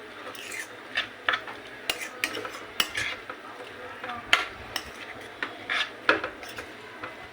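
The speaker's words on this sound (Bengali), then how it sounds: "ডিমটা দিয়ে ভালো করে এখানে মেখে নিচ্ছি।" Raw egg being kneaded by hand into food in a bowl, with soft squishing, rubbing and scraping sounds in irregular close bursts and no talking.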